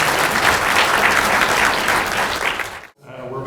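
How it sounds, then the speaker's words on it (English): Audience applause at the June morning session of the PISCeS 2026 scientific conference, sustained broadband clapping from a sizable crowd that cuts off abruptly near the end, followed by a brief quieter room tail. "let's give a round of applause for all speakers."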